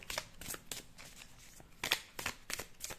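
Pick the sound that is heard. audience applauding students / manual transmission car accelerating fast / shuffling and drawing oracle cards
shuffling and drawing oracle cards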